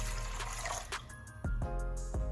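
Warm water, 1.5 cups, poured into a bowl for a sweet roll dough, a close steady gurgling stream that thins to a trickle, then splashes again, with no voices.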